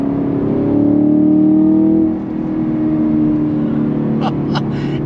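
A 2023 Chevrolet Camaro SS convertible accelerates with a steady rising engine drone that eases off near two seconds, followed by a few sharp exhaust pops and bangs near the end.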